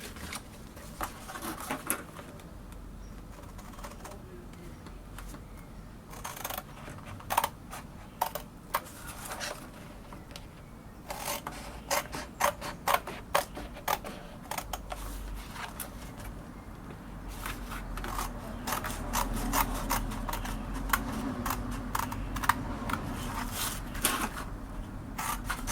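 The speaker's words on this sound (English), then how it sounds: "So get your tin snips." Tin snips cutting metal flashing for a tiled wall, a long run of quiet, irregular snipping clicks and crackles, sparse at first and then coming in denser clusters, with no talk.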